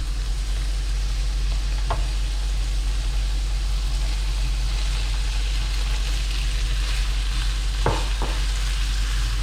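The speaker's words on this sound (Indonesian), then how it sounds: "Kita masukkan udangnya." Prawns for garlic prawn udon sizzle in a hot pan with a loud, steady frying hiss, while a couple of scraping stirs of a utensil against the pan are heard up close.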